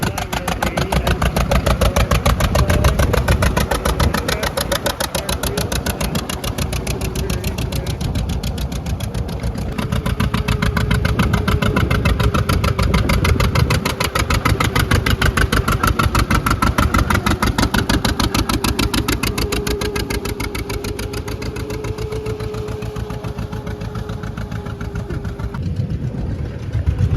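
A 1925 Flywheel D tractor engine with a 26-inch flywheel runs steadily at a threshermen and collectors show, a loud, close, rapid mechanical putter that holds an even pace for nearly half a minute with slight swells, and no talking.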